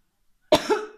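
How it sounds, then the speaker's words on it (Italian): A single sharp cough bursts out close to the mic after a moment of silence, followed by a short rough exhale. "Un po' di tosse, se sentito."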